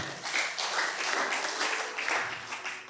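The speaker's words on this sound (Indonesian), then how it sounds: "Yang setuju beri sorak-sorai" Church congregation at Gereja Bethany Believers Medan cheering and applauding together, a steady, dense wash of clapping and shouts that holds loud and even for the whole stretch.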